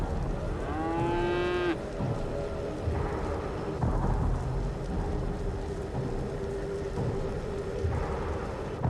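A cow in the horror farm game Dread Fields gives one long, rising moo near the start, heard over a constant rumble of rain and thunder.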